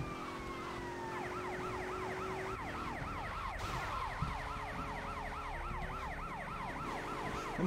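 Wailing police car siren in Grand Theft Auto Vice City, repeated rising and falling sweeps cycling steadily and loudly over a low engine drone, with no talk.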